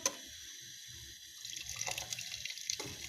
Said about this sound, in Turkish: Ocakta kaynayan suyumdan ekliyorum. Çorbamız çok çabuk kaynasın diye.